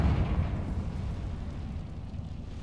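A Confringo fire spell detonates in Hogwarts Legacy, giving a heavy, low rumbling blast that peaks at the start and then trails off into a sustained roar, with no talking.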